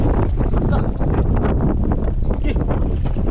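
Strong wind at sea roars across a fishing boat off the Philippines, a loud, continuous broadband rush of gusting air buffeting the microphone throughout, with no clear speech over it.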